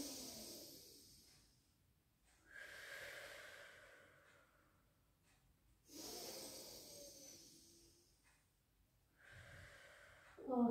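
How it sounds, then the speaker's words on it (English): Slow, deep breaths during a lower-body stretch, with three or four long inhales and exhales rising and fading close by and quiet pauses between them. "Taking some lovely deep breaths in."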